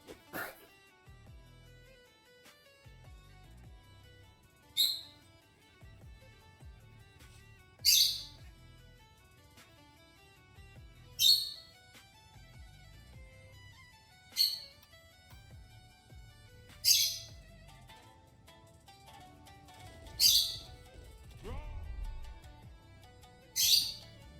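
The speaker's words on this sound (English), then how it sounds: "Shut up, little bird." Short, harsh squawks from a small bird in the Bannerlord Old Realms mod repeat at a steady interval of about three seconds, eight in all, over a faint low background with soft muffled noises.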